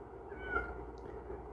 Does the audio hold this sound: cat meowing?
yes